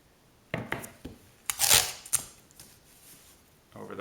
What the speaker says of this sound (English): So we'll run a little tape